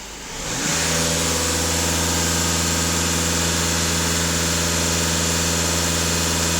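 A VW Golf 2.0 TDI diesel engine rises from idle and holds a steady, loud, even drone at about 2500 rpm, with no voices over it.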